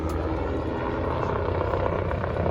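An aerobatic helicopter with a titanium rotor hub and very short blades performs at an airshow, a steady loud rotor and engine roar that holds at the same level throughout, with no talk.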